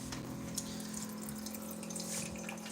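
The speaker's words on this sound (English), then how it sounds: "All you have to do is push the single button, the unit will turn on, and water will start to pour." Water pours steadily from a Kara Pure water dispenser after a single button press, a continuous close stream over a constant machine hum from the running unit, with no talking.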